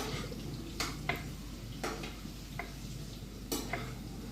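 French fries being fried get stirred, with a low sizzle underneath and several sharp scraping knocks of a utensil against the pan at irregular intervals. No talking.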